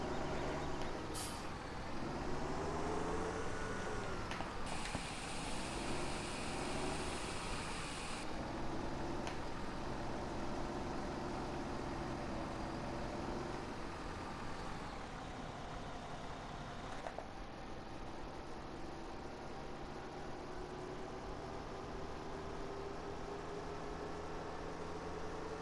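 A tractor engine drones steadily in the video game Farming Simulator 17. The engine noise shifts in pitch as the vehicle drives, with a brief hiss partway through and a continuous mechanical rumble throughout.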